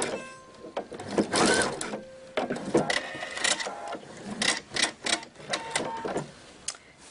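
A sewing machine stitches around the edge of a belt bag in uneven bursts, with short pauses and clicks between runs, close and moderately loud.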